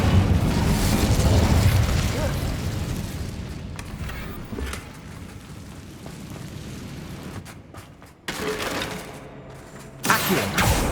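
The Incendio fire spell cast in Hogwarts Legacy, a loud roaring whoosh of flame and booming burst that gradually fades, followed by sharper popping magical effects and a final bright burst.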